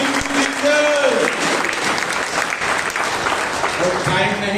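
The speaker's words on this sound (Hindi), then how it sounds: "ताली बजाइए" Congregation clapping at a Monday prayer meeting, steady applause filling the room while a voice carries on over it and calls out.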